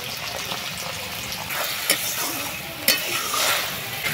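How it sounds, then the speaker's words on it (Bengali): Water being poured into a hot frying pan, sizzling and hissing steadily after salt and turmeric, with a couple of sharp spits, heard close with no talking. "এবারে জল দিয়ে দিচ্ছি।"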